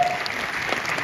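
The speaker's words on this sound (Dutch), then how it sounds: "Dus ik wil u allen een geweldig applaus vragen voor Selman samen met de leerling" Steady applause from an audience at a kirtan gathering fills the moment, a dense even patter of clapping held at a constant level throughout the short stretch.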